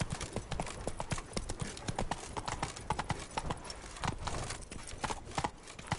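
Roach, a horse in The Witcher 3: Blood and Wine, galloping with rapid rhythmic hoofbeats, fairly close and quiet, continuous for the whole stretch.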